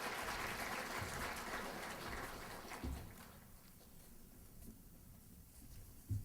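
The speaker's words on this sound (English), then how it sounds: "give yourselves a big round of applause for your coming here" A conference audience's applause begins full and dense, then thins and fades to scattered claps and room murmur over several seconds.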